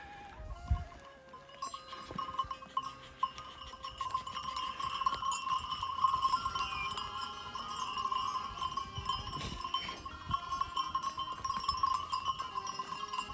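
A flock of sheep with small bells clinking irregularly, mixed with bleats and rustling in an open outdoor space in Turkey, moderately distant.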